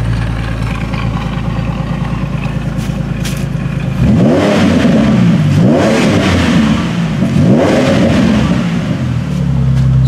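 A car engine revs hard during a throttle response check after a visual inspection, idling steadily before two rising, aggressive bursts of acceleration close up, with no talk.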